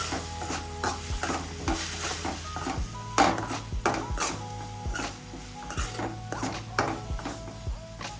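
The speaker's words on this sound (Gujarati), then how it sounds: "થોડી વાર માટે તેલમાં સાંતળવા દઈશું" Okra coated in red chili powder and spices sizzles in hot oil while a spoon stirs and scrapes the pan in repeated, irregular strokes, close and clear with no talk.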